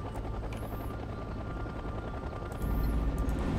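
A helicopter's steady rotor drone in the video game Act of War: Direct Action dominates, continuous and fairly loud, growing heavier and closer near the end with a rumbling low end.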